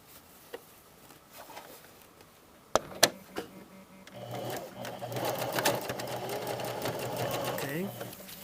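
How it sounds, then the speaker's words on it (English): Sewing machine stitching a patch pocket from the inside, a quiet start with a few sharp clicks, then a steady close running whir for the last few seconds. "We open this out and we sew in from the inside."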